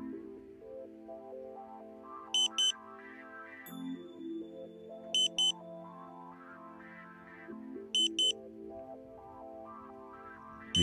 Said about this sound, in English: You hear the ambulance tone again.